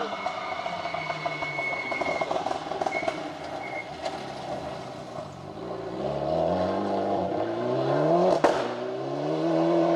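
A rally car on a Rally North Wales forest stage climbs through its revs as it approaches and passes close by, loud and rising near the end, with a commentator talking over it throughout.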